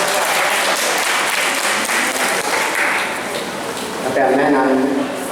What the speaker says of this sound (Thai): ขอเสียงปรบมือให้กับผู้สาธิตพระนางยักษ์ลิงครับ